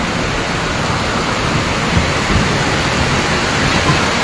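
Heavy, steady rain pours down in a dense, constant roar with no breaks, loud and enveloping.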